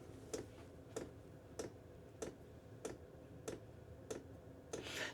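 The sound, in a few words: constant ticking of a running Chinese diesel heater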